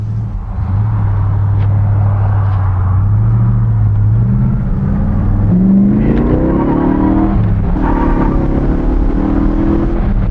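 A muscle car fitted with Tri-power carburetors idles with a deep, loping rumble, then revs up in rising surges before settling again, loud and close, with no talking.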